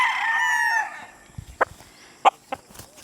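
A Boston White gamecock stag crows one long drawn-out call up close, followed by a few sharp scattered clucks and rustles as the yard goes quiet.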